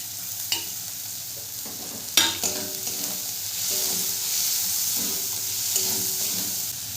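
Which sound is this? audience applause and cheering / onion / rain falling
onion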